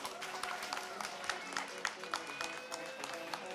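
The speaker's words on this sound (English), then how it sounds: "Let's give them a round of applause as well." An audience at a DEV Challenge event applauds the judges with steady, even clapping spread across the crowd, moderately distant and continuing throughout.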